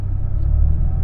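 A classic Porsche 911 engine rumbles steadily from inside the moving car, a loud, continuous low drone with no speech over it.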